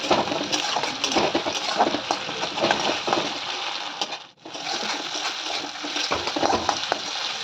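Ginger-garlic paste fries in a pan while being stirred hard, a dense crackling sizzle with scraping strokes that briefly drops away for a moment before resuming.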